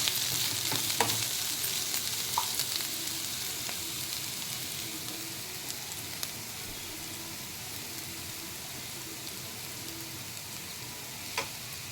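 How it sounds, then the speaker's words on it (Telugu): Onions and green chillies fry in hot oil with mustard seeds and cumin, giving a steady close hiss of sizzling with occasional faint ticks and pops, and no voices. "ఆనియన్ కూడా వేశాను ఇవి మంచిగా ఫ్రై అవ్వాలి"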